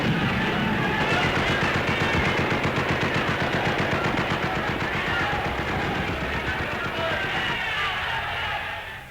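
Gunfire in the streets of Rome in 1944 as the Fifth Army clears out snipers: rapid, continuous automatic bursts, loud and steady for about nine seconds, with a rough, old-recording quality.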